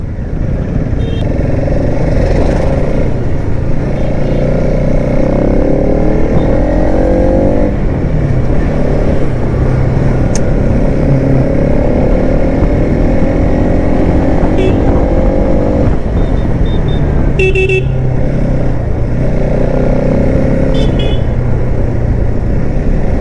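Bajaj NS200 motorcycle on a Sunday ride near Guwahati, its engine droning loud and close with repeated rises and falls in revs as gears shift, and rushing wind throughout.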